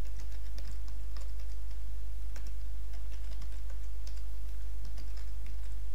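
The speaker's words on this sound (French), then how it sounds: "On tape un petit morceau de code en PHP" Computer keyboard clicking in quick irregular bursts as a short piece of PHP code is typed, keys near and distinct over a constant low electrical hum.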